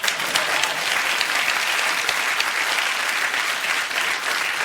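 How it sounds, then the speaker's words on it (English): Studio audience at a comedy show bursts into sustained, dense applause, a bright even roar of many hands clapping that carries on without a break for several seconds. "You can clap, that was beautiful."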